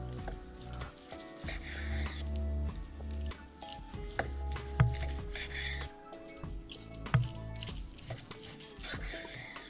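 Juicy Wagyu beef brisket slices drop with soft wet squishes and sizzling against a steady background hum, several irregular impacts spread over the stretch, moderately quiet and close.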